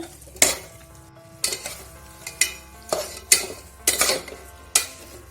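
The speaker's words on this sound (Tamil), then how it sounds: "இந்த மாதிரி நல்லா மசாலா எல்லாமே சிக்கன் உள்ளே இறங்குற மாதிரி நல்லா வதக்கிக்கோங்க ஒரு 5 மினிட்ஸ்." Chicken coated in masala is stirred and sautéed for biryani, with a spoon scraping the pot in about six sharp, regular strokes over a steady background sizzle. No voices are present.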